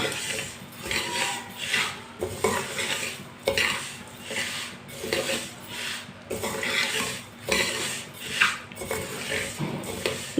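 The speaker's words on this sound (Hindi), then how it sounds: "गंदम को ना 4-5 मिनट के लिए भून लेंगे। से ऐसे ही चम्मच चलाते हुए भूनना।" Wheat grains roasting in a dry pan, stirred with a spoon, make repeated scraping and clinking of metal against the pan in an uneven rhythm, close and moderately loud, with a faint sizzle underneath.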